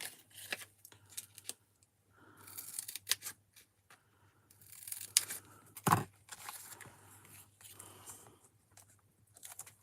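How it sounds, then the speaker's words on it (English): Close crisp snips and rustles of scissors cutting 3D foam into narrow pieces for card crafting, irregular bursts with handling noise between them. "I'm going to go with 3D foam on this one that I'm going to cut into narrow pieces."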